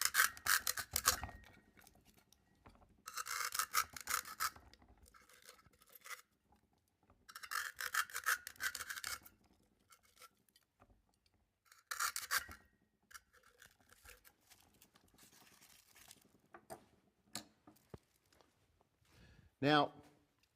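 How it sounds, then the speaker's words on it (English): A blade shaves the edges off a 3-inch styrofoam cube glued inside a container, making several short bursts of scratchy rasping with quiet gaps between them, fairly close and moderately loud. "We have a 3-inch cube of styrofoam from Floorcraft glued down inside. I'll shave off the edges."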